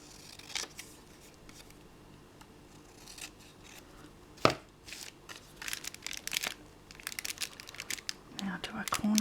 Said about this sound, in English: Cut this down a bit, it's very crooked.